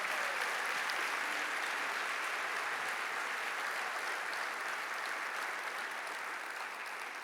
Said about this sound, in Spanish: Dele un aplauso al Señor en esta mañana.